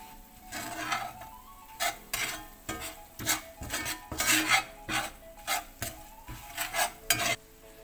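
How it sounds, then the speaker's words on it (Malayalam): A spoon stirring biryani gravy mix with turmeric powder in a pan, giving soft, irregular scraping and rubbing strokes with a light sizzle, close and fairly quiet with no talking. "ഒരു ടേബിൾ സ്പൂൺ മഞ്ഞൾപ്പൊടി, അതും കൂടി നന്നായിട്ട് മിക്സ് ചെയ്യാം."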